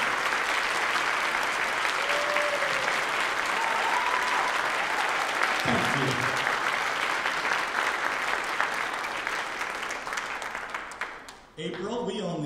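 A large concert audience applauds at a holiday benefit concert, sustained dense clapping filling the room for about eleven seconds before fading, with a voice speaking briefly at the end.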